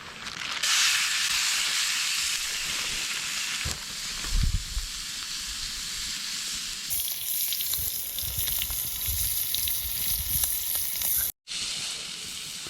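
Sliced pork tenderloin fries in a pan at a winter camp in northwestern Ontario, giving a steady, loud, close sizzle and hiss that carries on with shifts in intensity and a brief dropout near the end.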